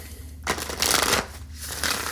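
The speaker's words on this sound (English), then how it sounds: "wait, let me shuffle." Tarot cards are shuffled in quick riffling bursts, close by, a papery flutter repeating two or three times with short pauses between.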